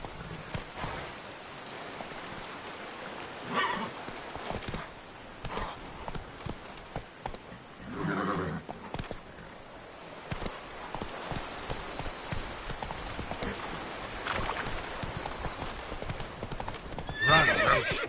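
Roach the horse gallops with fast, continuous drumming hooves in The Witcher, with a neigh rising out of the pounding and a rain-like wash of noise throughout, loud and close for the whole stretch.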